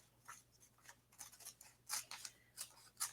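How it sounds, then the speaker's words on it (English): Quiet scissors snip several times in short, crisp cuts at an uneven pace, close to the listener, against a faint steady hum, while making resin and decoupage coasters. "And I'm just using scissors here."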